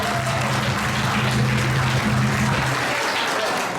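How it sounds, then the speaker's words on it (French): A church congregation at a Sunday worship service applauds young musicians, a sustained, even burst of clapping from the whole room, with a low tonal hum underneath and no clear speech on top. "Applaudissez-les. Encouragez-les."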